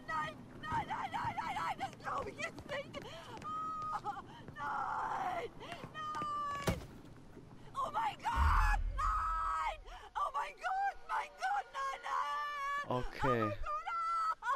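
Screams, groans and wails from people in the Mafia 3 video game during a shootout at a disco club, rising and falling over several seconds beneath near, steady talk.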